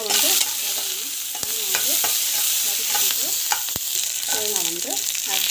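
Onions and green chillies fry in hot oil in a pan, with a continuous close hiss and sizzle broken by sharp scrapes and knocks of a stirring spoon.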